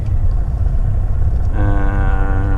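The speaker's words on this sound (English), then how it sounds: "So I think it's a 4-axle truck" A heavy haul rig with a 4-axle truck, 3-axle trailer, 2-axle jeep and 2-axle spreader rumbles past, with deep loud engine drone throughout and a strong harmonic whine coming in halfway through.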